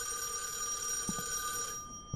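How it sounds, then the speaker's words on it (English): A telephone bell rings steadily in a horror video game, a continuous metallic trill that stops abruptly near the end, with a few soft thumps underneath. "Phone's ringing again."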